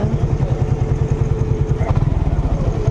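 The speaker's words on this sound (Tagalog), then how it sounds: "Ayan yung motor ni Kuya." A motorcycle engine runs steadily near a closed roadside vulcanizing shop, a loud low rapid putter with even pulsing beats throughout and a faint clatter, with no talking.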